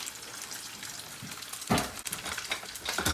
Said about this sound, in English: little bit of oil in this pan, and we're gonna get ready to sear beautifully that Spam